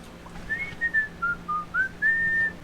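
A tin whistle plays a short run of clear, high notes, some sliding between pitches, against a quiet background.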